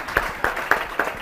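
An audience claps for volunteers, steady evenly spaced claps about four per second, close and fairly loud, with no talk over them.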